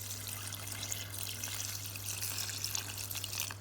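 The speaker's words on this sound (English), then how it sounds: "Then put the cobs into a pot. Add enough water to fully submerge them." Water pours steadily into a pot holding rinsed corn cobs, a continuous close splashing rush under a low steady hum.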